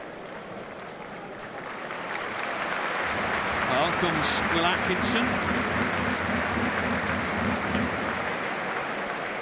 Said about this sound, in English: What a surprising round of applause from the Bradford